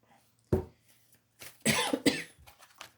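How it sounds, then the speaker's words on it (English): A single sharp cough, then after a short gap a cluster of two or three harsher, throaty coughs close to the microphone, with a faint low hum underneath. "Cough's returned."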